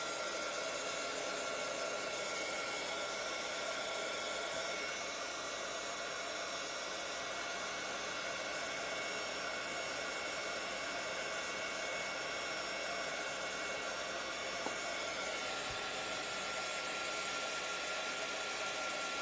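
A hair dryer blows steadily on something left wet, a continuous loud broadband rush that holds almost unchanged for the full length, with no talking.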